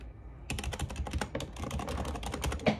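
Rapid, clattering keystrokes on a new computer keyboard, close up and fairly quiet, beginning after a brief pause and running in an uneven, continuous burst of clicks.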